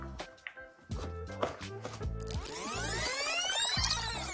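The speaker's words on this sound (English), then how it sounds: "I'm choosing to dice them finely because these are slightly wet from blanching" Blanched, slightly wet almonds are diced finely with a knife on a chopping board, giving a quick series of close, crisp chops and taps that build into denser rapid strokes.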